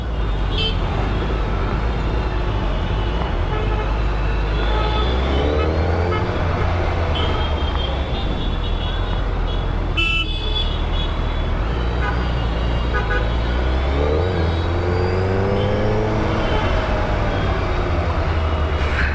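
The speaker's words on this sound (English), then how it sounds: "Now you can see so much of traffic here." Dense evening road traffic on 100 Feet Road, Indira Nagar, Bangalore: a constant roar of car, bus and truck engines, with frequent honking horns rising above it throughout.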